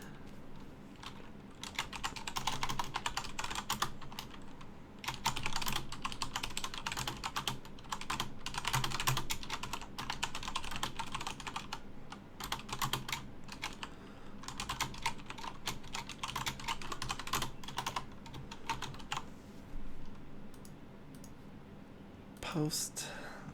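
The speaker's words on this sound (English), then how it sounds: "you're going to hear me typing again" Rapid computer keyboard typing in a small room, bursts of clustered keystrokes with short pauses, close and clear over a faint background hum, with a brief voice near the end.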